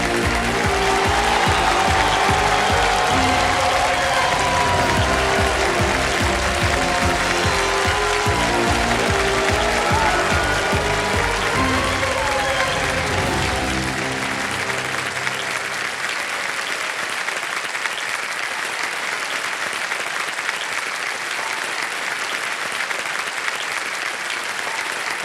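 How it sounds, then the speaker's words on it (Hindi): On the quiz show Kaun Banega Crorepati, a studio audience keeps up loud, continuous applause for a contestant heading to the hot seat. Show music plays underneath for the first half, then the clapping carries on alone. "ताली बजती रहे इनके लिए"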